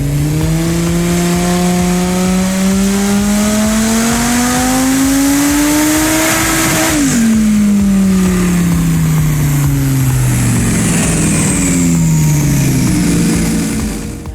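Supercharged 770 bhp Lamborghini Gallardo engine held at wide-open throttle, a loud, steadily climbing roar that drops sharply partway through, then keeps winding up and down, close and with nobody talking.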